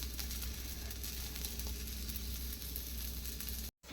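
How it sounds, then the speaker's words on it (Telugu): Wheat flour snacks, made from chapati, frying in oil over a low flame: a dense, even hiss of bubbling oil, close and continuous, cut off abruptly just before the end. "చూడండి ఆయిల్ వేసేసాను కదా, సిమ్లో పెట్టేసి ఫ్రై చేసేస్తాను."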